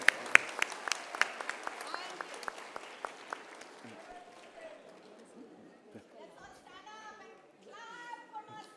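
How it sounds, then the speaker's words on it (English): An audience at a Sharda University event claps in a burst of loud, close hand claps that soon dies away into murmuring chatter and voices talking. "Let's give a big clap."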